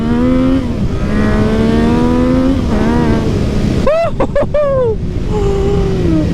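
A modded Yamaha MT09 motorcycle with full exhaust and flashed ECU accelerates hard. Its loud, close engine note climbs through the revs, then drops sharply at quick gear shifts.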